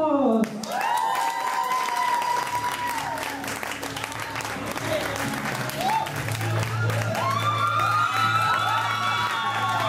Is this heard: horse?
no